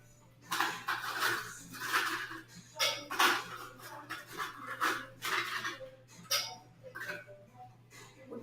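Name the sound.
stirring the High Horse cocktail in a mixing glass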